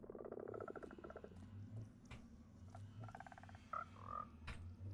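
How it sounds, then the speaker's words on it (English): Frogs croaking on a frog farm, a faint chorus of short rattling trills and croaks repeating irregularly at low volume against quiet background noise. "These frogs."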